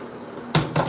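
A toothbrush gets knocked over and lands with two quick, close, hard clatters a split second apart over faint background hum.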